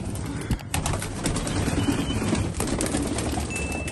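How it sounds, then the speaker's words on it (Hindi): Shirazi and wild pigeons in a loft cooing in a steady, low murmur, with occasional wing flutters and shuffling over a continuous background hum. "ये शिराजी कबूतर और ये जंगली कबूतर इस तरफ है"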